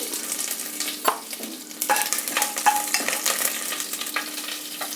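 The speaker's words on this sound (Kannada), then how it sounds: "ಸಾಸಿವೆ ಹಾಕ್ತಾಯಿದ್ದೀನಿ ಈಗ ಕರಿಬೇವಿನ ಸೊಪ್ಪು ಒಣಮೆಣಸಿನ್ಕಾಯಿ ಸ್ವಲ್ಪ ಹಿಂಗು" A tempering of mustard seeds, curry leaves, dried chilies and asafoetida hits hot oil, crackling and spitting continuously up close with sharp pops and stirring scrapes throughout, no speech.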